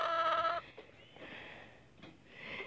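A backyard homestead hen gives a short, clear vocal call close by, then falls to softer, fainter clucking sounds amid light outdoor background noise.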